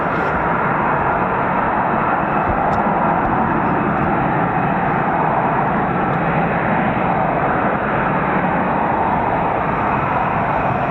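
A pair of F-35B stealth jets from 809 Naval Air Squadron taxi on an airfield, their engines a loud, unbroken roar that holds steady throughout.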